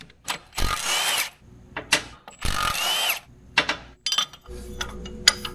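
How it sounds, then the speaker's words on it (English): A handheld power drill bores through plasma-cut holes in steel on an off-road Jaguar wrecker build, several loud whirring bursts of a second or so separated by pauses, with metallic clinks and tool handling in between, close up. "So my drill bits did not want to puncture that or cut that, but finally got it."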